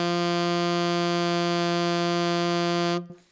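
A low D played on an alto saxophone, held as one steady, reedy tone with a rich buzz for about three seconds before cutting off cleanly, played alone and close.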